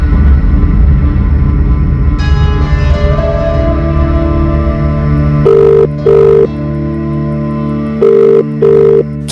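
Ringback tones on an outgoing phone call, several evenly spaced double-burst rings at moderate level over a steady hum, with no one talking.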